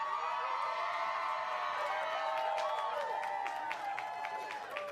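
Crowd at a tennis Grand Slam final cheering and applauding, a dense sustained wash of clapping and shouts with some whistles rising partway through.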